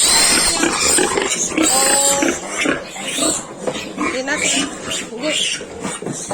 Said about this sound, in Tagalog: Unang-una ay pinili muna ni Tatski Baby ang mga biik.